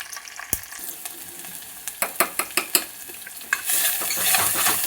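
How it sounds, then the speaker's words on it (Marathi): Onion frying in ghee in a pan, stirred with a utensil: a run of sharp scraping knocks over a steady sizzle, then the sizzle swells louder and hisses on its own. "कांदा जरा लालसर भाजून घ्यायचा"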